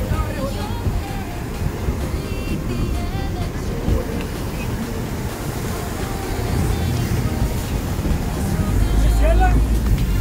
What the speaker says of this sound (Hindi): अभी हम लोग जा रहे हैं आगे, स्पीड बोट चालू हो चुकी है।